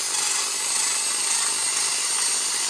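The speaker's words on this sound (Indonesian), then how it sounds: "Kemudian kita pakai bor teman-teman, kita haluskan." Steady, continuous grinding rasp as an electric drill spins a Honda Beat piston pin mounted on a bolt to smooth it, loud and close, unbroken throughout with no talk.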